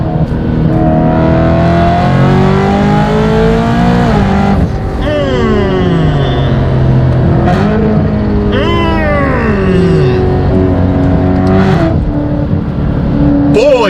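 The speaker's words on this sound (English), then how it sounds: "The downshifts, listen." A loud V8 BMW M3 engine roars and drops through several downshifts, revs rising and falling in sharp swoops with crackling blips between gears.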